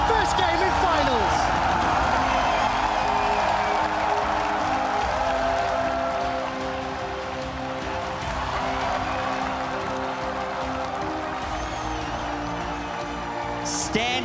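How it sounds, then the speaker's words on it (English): A packed arena crowd at Staples Center keeps up sustained applause and cheering, a standing ovation at an esports finals, loud and continuous under commentator talk. "Standing ovation from the crowd here at Staples Center"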